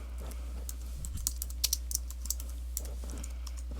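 Keys tapped on a computer keyboard in quick, uneven bursts of clicks, close and clear over a steady low hum, with no voices.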